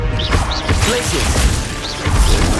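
Glacius spell cast in the Hogwarts Legacy video game, loud crashing and whooshing combat effects with thumps and short chirping tones, busy and dense throughout.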